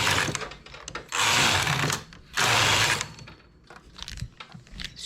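A knitting machine carriage runs across a row on a machine with a ribber bed, giving two loud, sustained mechanical whirring passes of about a second each with clicks and rattles between them.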